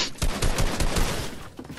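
Rapid bursts of gunfire strike the player during a Fortnite box fight, a dense run of loud, close shots that keeps going through the clip and eases off slightly near the end.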